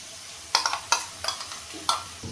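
Tomato and melon-seed paste masala with ginger being stirred in a pan, a few sharp spatula scrapes and taps over a faint low sizzle, close and uneven, with no one talking.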